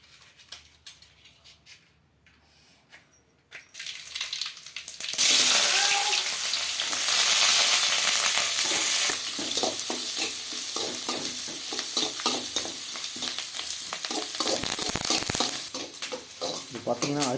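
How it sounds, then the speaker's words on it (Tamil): Rice grains dry-roasting and being stirred in a pan to make rava, a loud, steady scraping rustle with no oil sizzle, after a few seconds of quieter room sound. "இது பார்த்தீங்கன்னா அரிசியை வறுத்து ரொம்ப ஈஸியாக இதை ரவையாக செஞ்சிடலாம்."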